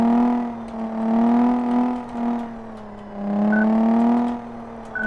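Car engine in the racing game Car Mechanic Simulator 2014 accelerating hard, rising in pitch through gears with brief dips between shifts, loud and continuous with no voices.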